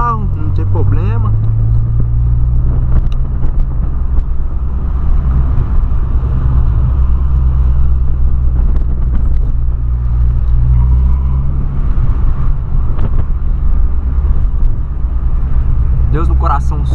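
A VW Polo engine rumbles loudly and steadily throughout, with faint revving swells, close by and dominating.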